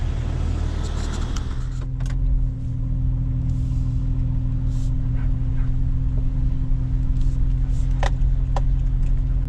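A 26-year-old Jeep Wrangler TJ on the move, its engine holding a steady low hum with road rumble and a few light clicks and rattles over the top.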